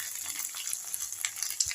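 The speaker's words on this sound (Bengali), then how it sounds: "এর মধ্যে এখন বিটটা গাজরটা সব দিয়ে আবার তারপর কষাবো" Beetroot and carrot stir-fry in a pan with ginger and green chili, a soft crackling sizzle with light spoon stirring, close and quiet, no voices.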